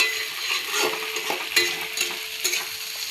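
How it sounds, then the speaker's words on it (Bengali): Chicken meat stirred and fried in a pan, a continuous close sizzle broken by occasional scraping strokes of the spoon, steady and fairly quiet with no talking. "মুরগির মাংসটা দেওয়ার পরে একটু নাড়াচাড়া করব। নাড়াচাড়া করে একটু ভালো করে মাংসটাও ভেজে নিতে হবে।"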